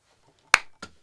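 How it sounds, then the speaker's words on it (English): A single sharp hand clap for syncing a recording in a quiet room, followed by a softer second snap-like hit. "There's the clap."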